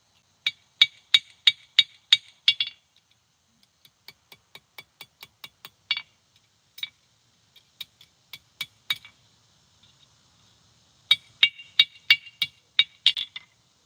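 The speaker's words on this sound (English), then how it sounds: "And hammer it flat." Sharp metallic hammer strikes flatten metal at a forge, ringing out in quick bursts, a fast run of blows, a pause, scattered taps, then another rapid volley close by.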